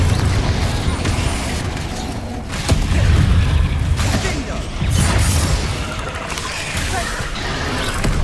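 Confringo blasting-spell explosions from Hogwarts Legacy on PS5 boom repeatedly in heavy, overlapping bursts with crashing debris, loud and close, set against a continuous rumbling battle background.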